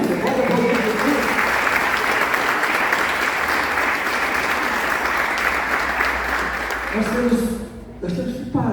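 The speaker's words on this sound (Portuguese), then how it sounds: "Você pode aplaudir Jesus?" A church congregation applauds Jesus at a pastor's urging, a dense, loud, continuous wash of clapping for about seven seconds that then fades as a voice begins speaking.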